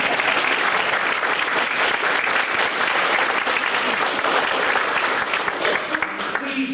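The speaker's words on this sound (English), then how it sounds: "everybody here claps you for coming." Congregation applauding inside a Methodist church, a sustained loud burst of many people clapping close and dense, holding steady before thinning slightly at the end.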